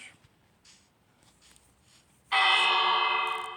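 A bright bell rings out suddenly after a quiet stretch, sustained and resonant, with soft faint clicks before it.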